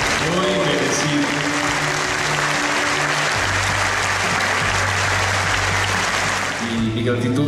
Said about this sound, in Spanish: Quiero, por favor, que se unan a todos nosotros en un aplauso muy grande